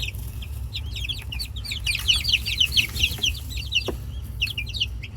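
Dual purpose farm chickens clucking in a steady, overlapping chorus close by, with rapid busy calls and a low constant rumble underneath; no one speaks.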